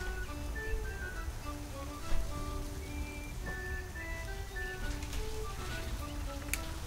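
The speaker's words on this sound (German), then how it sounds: "Wow, es regnet, Leute." Steady rain in a video game patters on surfaces with scattered close drips, while faint birdsong chirps in the background and no one speaks.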